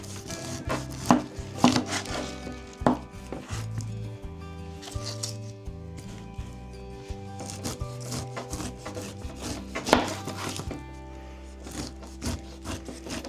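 A knife chops a pineapple on a cutting board for a fermented hot sauce. Irregular woody thuds and scraping cuts come close and steady over a faint musical backdrop.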